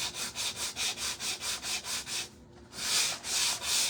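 Sandpaper rubbed back and forth over a surface in steady rhythmic strokes, about a dozen even passes with a short pause before two more, close and alone.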